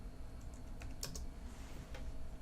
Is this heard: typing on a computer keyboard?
yes